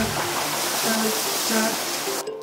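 Steady broadband rush of a waterfall spilling over small rapids in the Carpathian mountains, loud and close, continuous with faint tonal chiming above it, cutting off abruptly at the end.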